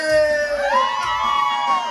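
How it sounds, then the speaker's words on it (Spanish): Women at a wedding party let out a shouted grito together, high sustained whooping cries that rise and fall over a lively crowd for about two seconds. "A ver el grito de las mujeres"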